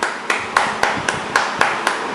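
Hands clapping at home with a baby, sharp evenly spaced claps about four per second, close and clear, with no talking over them.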